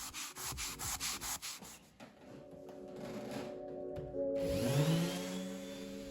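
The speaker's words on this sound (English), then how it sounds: "I'm using a P180 sanding sponge, which is my go-to sanding tool" A P180 sanding sponge rubbed by hand over filler repairs on a mid-century side piece of furniture, with close rhythmic scrubbing strokes that give way to a steady machine drone and a rising whine.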